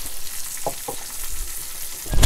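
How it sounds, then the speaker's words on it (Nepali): Spices with Nepali timur frying in a pan in a village kitchen, giving a close, steady sizzle with a few sharp crackles and pops, swelling louder at the end. "मसला चाहिँ एकछिन पड्किन थालिसकेको छ"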